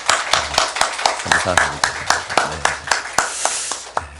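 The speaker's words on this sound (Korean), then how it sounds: "우리 찬양팀들에게 좀 우리 감사와 격려의 박수 한번 해주셨으면 좋겠습니다" Church congregation at an early-morning prayer service clapping for the worship team: loud, evenly spaced claps in a steady beat, with a voice speaking and singing-like tones over them.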